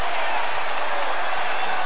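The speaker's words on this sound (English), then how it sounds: "Crowd's involved now." Arena crowd roaring and applauding at a 2003 Pac-10 Tournament semifinal basketball game between Oregon and UCLA, a dense steady wash of cheering.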